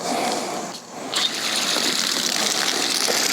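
Water sprays steadily from a hose nozzle set to its flat pattern, a loud, hissing gush that dips briefly before resuming at full force.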